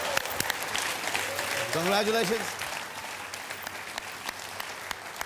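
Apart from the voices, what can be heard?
studio audience applause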